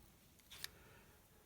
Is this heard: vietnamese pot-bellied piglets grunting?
no